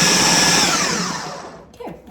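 Blender whirring loudly as it purees onions and masala for seekh kebabs, a steady high motor roar that winds down near the end.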